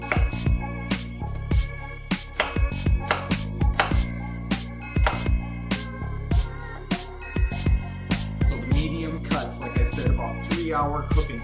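A knife chopping vegetables for mirepoix into medium pieces on a board, a series of sharp, close, regular thuds. Music plays underneath.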